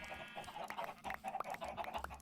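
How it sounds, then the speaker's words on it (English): Several chickens in the Minecraft video game cluck in a busy overlapping flock, short clucks and squawks repeating quickly at a fairly faint level with no talk. "That's a lot of chickens."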